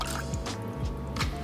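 Water being poured into the base boiler of a Giannini stovetop espresso maker, with soft liquid drips and splashes in a steady close stream, alone with no talking.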